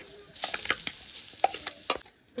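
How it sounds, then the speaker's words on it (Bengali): Grated coconut stirred in a hot wok as filling for pitha, a short run of scraping stirs with light sizzling, several quick spatula strokes close by, then a brief lull. "এবার কড়াইয়ের ভেতর নারকেল দিয়ে দেবো"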